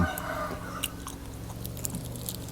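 Close, soft chewing and biting of grilled shrimp topped with melted cheese, with small crunchy bites and a sharper click near the end and no talking.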